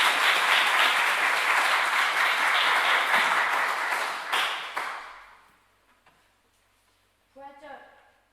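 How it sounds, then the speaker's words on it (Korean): Loud applause from a church congregation during a Sunday worship service, lasting several seconds and fading out, followed by a brief soft tapping sound near the end. "목사님 나오실 때 우리 박수 한번 하시죠"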